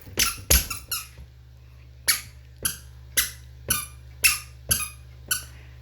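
Children's squeaky shoes give off a series of sharp, high squeaks like a dog's squeak toy, about a dozen in all, coming fast at first and then spaced with each step, loud and close over a low background hum.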